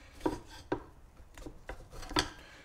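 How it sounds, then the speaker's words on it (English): A steel tire spoon levers a scooter tire over its wheel rim by hand, giving a handful of short rasping scrapes and rubs spaced unevenly over a couple of seconds, close up and fairly quiet. "I'm using the tire spoon in this direction, so the curve goes over the wheel and right between the tire."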